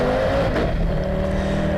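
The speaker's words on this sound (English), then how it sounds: "he gets the power down through all 4 wheels and into top gear as the Audi charges into the kink" An Audi hillclimb race car at a British speed hillclimb championship event, four-wheel drive, accelerates hard into top gear with a loud, sustained engine roar that stays close throughout, with no voices.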